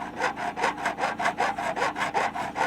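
A file rasps back and forth across guitar fret ends in steady, rhythmic strokes, about a dozen close scraping passes with a dry, gritty texture at moderate loudness.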